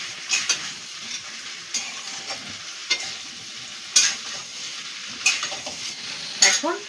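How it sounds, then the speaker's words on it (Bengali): A ginger and cumin paste being stirred into hot oil in a pan for a potato and papaya curry, with a continuous sizzle and sharp, repeated spatula scrapes and clinks against the metal. "আদা জিরে বাটাটা দিয়ে ভালো করে মিশিয়ে নিচ্ছি।"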